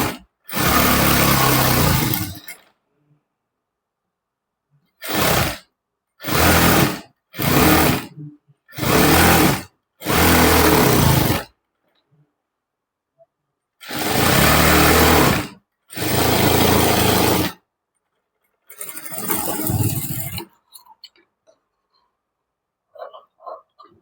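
Sewing machine stitching an umbrella-style long frock, running in loud close whirring bursts of a second or two, separated by short pauses of silence.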